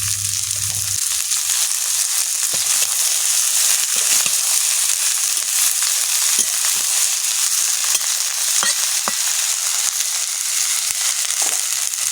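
Washed taro leaves fry in a pan with a steady, close, loud sizzle that runs throughout, broken by scattered pops and crackles.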